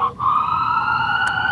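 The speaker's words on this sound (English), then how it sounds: "Uh-oh. Sirens." A loud emergency siren wails right outside a window, a steady sustained tone very close by, briefly dipping at the start and then holding strong throughout.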